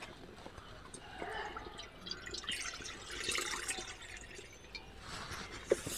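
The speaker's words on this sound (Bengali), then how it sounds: "এবার পরিমাণ মতো আমটা সিদ্ধ করবার জন্য জল দিয়ে দেবো।" Water splashes and trickles steadily into a cooking pot for boiling washed raw mangoes, a continuous close pour with small drips and a sharp clink near the end.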